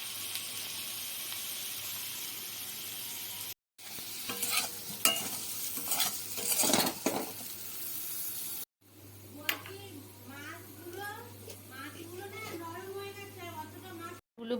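Potato pieces cut from two large potatoes fry in oil, crackling and hissing in bursts broken by short cuts, with stirring noises and a voice talking over the later part.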